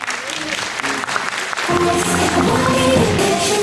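Audience applause at a school beauty pageant, a steady, full crowd clapping that swells partway through as music comes in underneath.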